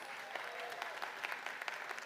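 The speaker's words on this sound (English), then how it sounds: "you can applaud" A commencement audience gives a short burst of applause, dense, even clapping from a large crowd in a hall, with no voices.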